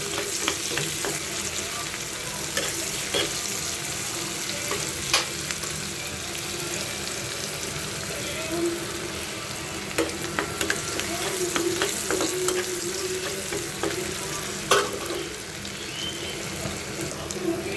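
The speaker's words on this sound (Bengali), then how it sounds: "এখন আমি ডালটা বাগার দেওয়ার জন্য এগুলো ভালো করে ভেজে নেব" Chopped garlic and onion sizzle steadily in hot oil for a dal tempering, a constant close frying hiss with occasional stirring clicks and scrapes, no voices.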